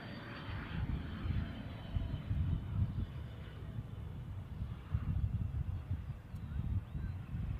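A fixed-wing airplane arriving at Glasgow airport, a distant, low broadband engine rumble with wind-like roar, steady and faint across the whole stretch, with no voices.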